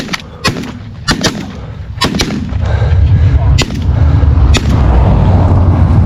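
Shotgun blasts on a duck hunt, several sharp, loud reports spaced irregularly over a few seconds against rumbling wind and outdoor background.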